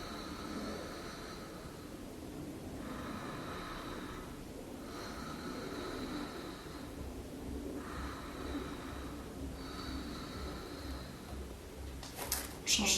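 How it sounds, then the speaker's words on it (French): Slow deep breaths during a yoga side stretch, several long airy inhales and exhales in a steady rhythm, close and soft, ending with a brief rustle. "Et on respire."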